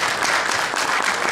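A brief round of applause breaks out at a Lions Club gathering, the dense clapping of a crowd sustained evenly through a short burst.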